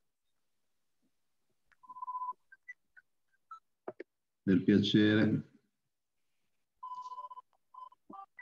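A mobile phone rings through an open microphone on an online call, with short repeated tones picked up faintly and a voice speaking briefly between the rings.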